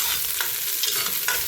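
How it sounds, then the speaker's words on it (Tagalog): Ginger and garlic sautéing in a home kitchen pan, a steady close sizzle with a few soft stirring scrapes, no talking. "Gisa-gisa. Luya muna, tapos next, bawang."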